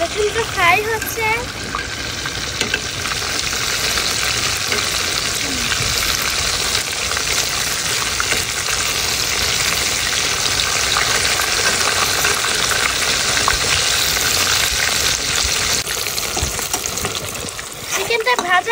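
A chicken burger patty sizzles loudly in hot oil, a dense, continuous frying hiss running unbroken throughout, close and strong, with a few brief voice-like sounds near the start.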